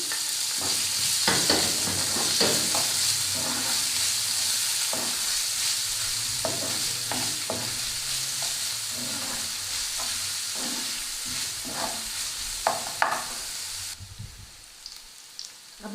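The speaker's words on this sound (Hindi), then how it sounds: "अब हमने इसी पैन में 4 टेबल स्पून ऑयल ऐड किया है और ये प्याज डालकर हम इसको हल्का सा गोल्डन करेंगे" Onions sizzling and crackling in hot oil for a long stretch, with scattered stirring scrapes and pops, close and steady.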